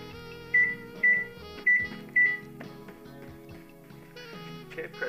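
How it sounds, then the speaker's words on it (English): A microwave oven holding cupcake mix hums steadily, and four sharp, evenly spaced beeps ring out near the start before the running drone continues with light clatter. "now it's time to put this bad boy in the microwave with the spoon"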